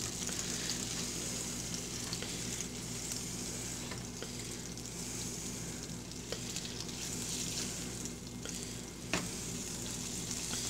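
Hamburger steak sizzles and fries steadily in a pan, a continuous crackling hiss with occasional small pops and scrapes, close and alone without talk.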